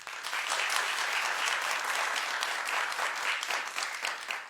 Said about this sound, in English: Clap if you understand what I was just saying.